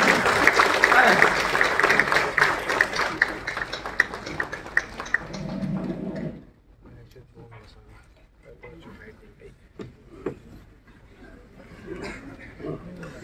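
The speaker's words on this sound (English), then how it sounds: "with a huge round of applause and a standing ovation" At a ceremony celebrating Srinagar's recognition as a World Craft City, dense applause rings out for about six seconds, then fades to a quiet room with scattered sounds and people talking.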